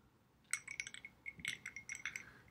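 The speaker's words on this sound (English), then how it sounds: "So now we're going to add two more ice cubes." Ice cubes drop into a glass jar of water, making two quick clusters of faint bright clinks and chinks against the glass, each followed by a short rattle, close and quiet with no talk.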